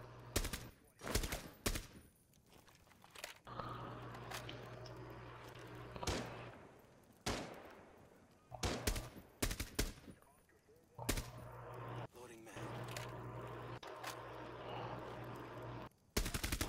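Repeated bursts of automatic gunfire in the tactical shooter Rainbow Six Siege during a hard-mode hostage extraction in a house, sharp loud volleys separated by short pauses, with a steady low hum underneath.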